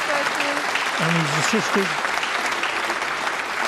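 Applause from a snooker crowd at the Champion of Champions sounds as a steady, dense patter of clapping throughout, while a commentator speaks over it briefly.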